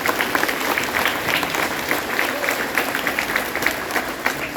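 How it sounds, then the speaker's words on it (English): Steady applause from an audience at a 6th grade band concert fills the whole stretch, a dense crackle of many hands clapping at moderate loudness with no pauses. "give them a round of applause for their teachers"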